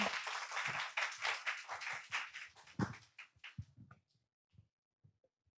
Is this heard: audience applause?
yes